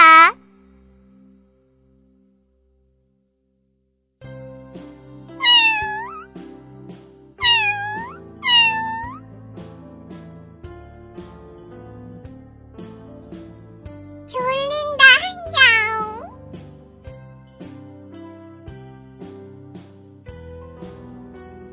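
Several short, high meows in separate bursts, close by, over a quiet background of soft musical tones.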